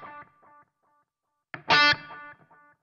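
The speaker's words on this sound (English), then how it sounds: "In this instance, I've got an emulation of a Boss analog delay." A few electric guitar notes and a chord through an emulated Boss analog delay on a NUX Trident, with a soft, repeating echo trailing after each, ringing out and fading.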